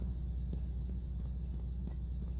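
A soft, steady throbbing heartbeat pulse from the video game Flashing Lights as a patient's pulse is checked, repeating evenly at a brisk rate over a constant low hum.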